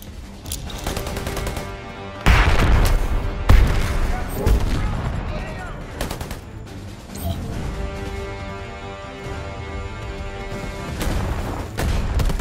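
A grenade explosion and gunfire in Predator: Hunting Grounds, with heavy booms and rolling automatic fire that continues throughout, voices shouting over the combat.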